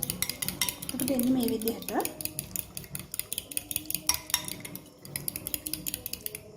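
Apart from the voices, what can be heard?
stirring and mixing Chinese noodles in a pan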